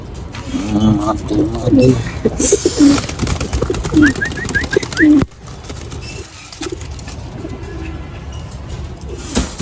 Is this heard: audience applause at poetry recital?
no